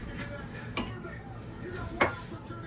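A dish being washed by hand in a home kitchen: two distinct clinks of dishware about a second apart over a quiet, murmuring background.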